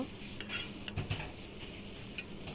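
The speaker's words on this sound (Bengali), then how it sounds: "এখন আমি কাটা ছাড়ানো মাছগুলো দিয়ে দিচ্ছি। মাছটা দিয়ে আমি আরও কিছুক্ষণ রান্না করে নেব।" Katla fish pieces cooking in a pan of spiced masala: soft clinks of a utensil against the pan and light stirring scrapes over a faint steady sizzle, fairly quiet and close.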